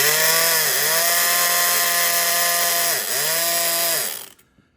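A Multipick Artemis electric lock pick gun whirs loudly with a high, buzzing motor drone that dips in pitch twice before cutting off abruptly into near silence.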